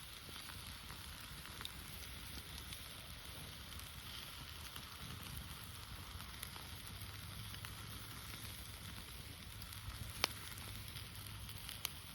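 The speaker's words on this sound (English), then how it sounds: "at least it's spitting and splitting and throwing fits" A sausage sizzles and spits as it cooks, making a faint, steady hiss with scattered small pops and crackles, close but quiet.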